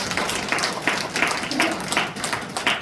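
Audience at a committee report meeting on the Gadeokdo new airport claps together, a dense patter of many hands over about three seconds, moderately loud and fairly close, with no speech over it.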